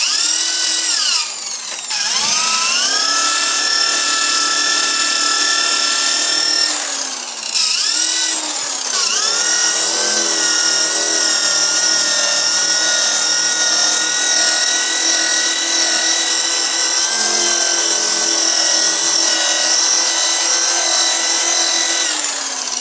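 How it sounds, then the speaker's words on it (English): A power drill with a hard polishing bar whines loudly and continuously with a buffing, rubbing tone as it polishes a headlight lens, pausing briefly twice early on before running steadily to the end. "using the drill and the hard bar here, I'm getting excellent results"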